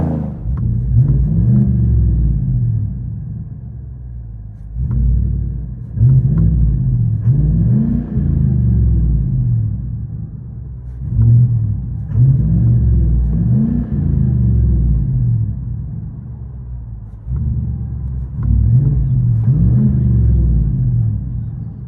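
Cabin view of a 2020 Chevy Silverado RST with a 5.3L V8 and a Netami turbo resonator: a steady low exhaust rumble fills the interior, swelling in repeated revs and easing back between them, loud and close with no talking.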